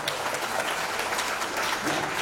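An audience at an Indonesian national fellowship gathering applauds, a dense, steady wash of many hands clapping at once that stays strong throughout.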